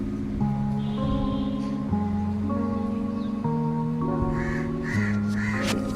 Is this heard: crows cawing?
yes